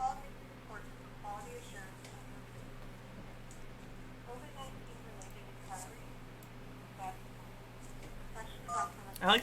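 An old T9 mobile phone call failing to connect, with short telephone tones and beeps under near-constant talking.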